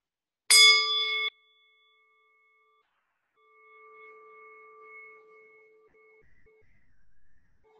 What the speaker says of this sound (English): Now let's listen to our bell